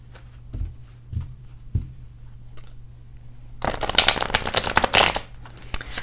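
A deck of tarot cards is shuffled close by: a few soft taps and riffles at first, then a dense, crisp flurry of shuffling over a low steady hum.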